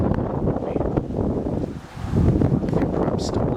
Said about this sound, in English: It got windy.